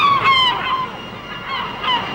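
Seagulls screeching as a sound effect in a narrated story, with a few loud, close, harsh honking calls that rise and fall over a quiet background.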